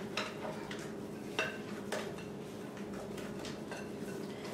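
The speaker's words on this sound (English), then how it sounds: "So you're just gonna mix that quickly together." Pumpkin delight crust ingredients being mixed in a pan: steady scraping and stirring with a few sharper clinks of a utensil against the pan, continuous and fairly close, no talking.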